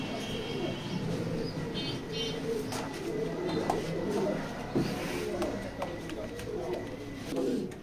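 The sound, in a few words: pigeons cooing in a pigeon loft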